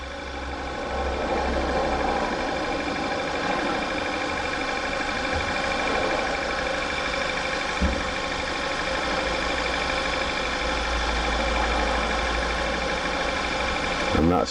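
A Skoda Yeti 1.8 TFSI engine with a fuel pressure fault idles steadily, a constant mid-pitched hum with a faint ticking texture, close and even throughout, while a voice speaks over it.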